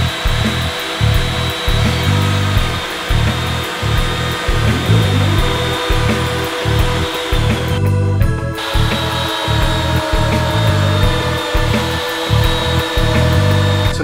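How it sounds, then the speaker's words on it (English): A router on a tilting-fence router table cuts a spline groove in wood for a hanging bird feeder, a loud steady motor whine with repeated rhythmic pulses as the piece feeds through, briefly dipping near the middle. "in order to make the groove for the spline, I'm going to use my tilting router table fence."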